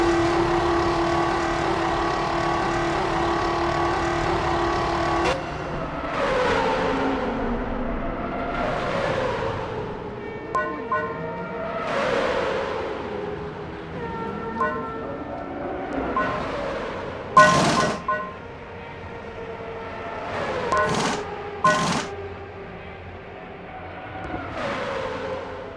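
A Williams Formula 1 car in the F1 2006 video game pulling out of the pits, its engine whining and shifting through rising gear sweeps as other race cars whoosh past in loud, repeated bursts, with no talking.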